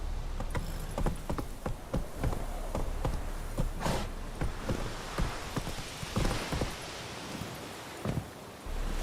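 Hooves of Roach, the horse in the video game The Witcher 3: Wild Hunt, clip-clopping in a steady trotting rhythm, close and clear over a faint outdoor insect buzz.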